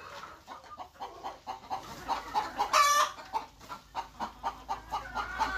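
Local desi hens cluck in a steady run of short repeated calls, close by, with a brief louder squawk partway through.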